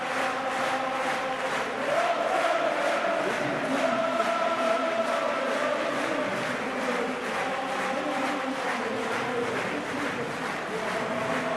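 Home crowd at an Ulster rugby match cheering a welcome for their team, a steady loud roar of many voices in a stadium, sustained throughout with a commentator's voice over the top.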